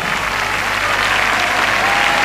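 At the 1982 Viña del Mar festival, the Quinta Vergara crowd keeps up continuous loud clapping, a thick, unbroken wash of applause from a big open-air audience.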